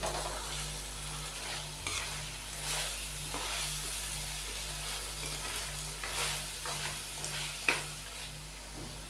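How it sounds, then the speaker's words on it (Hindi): Onion paste fries with beef in a pot for aloo gosht, giving a steady soft sizzle broken by periodic scraping stirs and one sharp utensil clink near the end, with no talking. "प्याज के पेस्ट को भी हम 2 से 3 मिनट भूनेंगे।"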